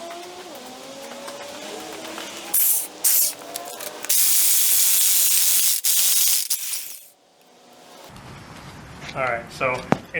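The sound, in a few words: impact wrench removing seized Honda ball joint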